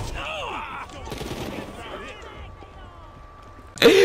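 Bursts of rapid gunfire crackle through a video game gunfight, mixed with game sounds and a voice talking nearby, before a sudden loud jolt at the end.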